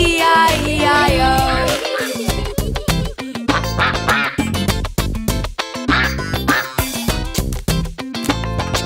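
Repeated duck-like quacks in a steady bouncy rhythm over a loud, dense musical backing, the calls sung or imitated in time with the tune.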